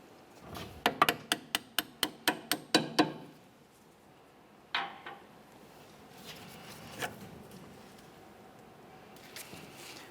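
Steel hammer strikes driving a ball joint out of a 2004-2006 Scion xB front lower control arm: a quick run of about nine sharp, ringing metallic hits, then a few isolated knocks and clatters, close up with no talk.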